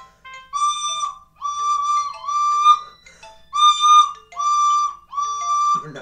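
A recorder plays a simple tune in six sustained, whistle-like notes with short gaps between them, clear and alone at moderate loudness.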